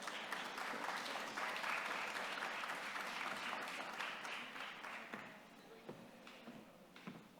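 Audience applause welcoming Dean Ethan Bueno de Mesquita to the stage at a school town hall during a reunion weekend, a steady roomful of clapping that tapers off toward the end with a few scattered claps.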